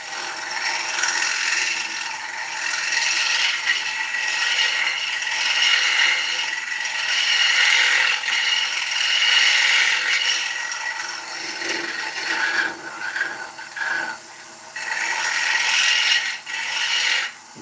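Ash fruit bowl spinning fast on a wood lathe, a steady bright rasping and scraping hiss as the tool works the wood, with brief dips and pauses near the end.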